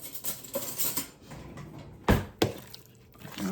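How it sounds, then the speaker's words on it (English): A utensil stirs potatoes in a dish to coat them with olive oil, giving scraping and clinking against the bowl, with two sharper knocks midway, close and moderately loud. "I'm going to stir that up."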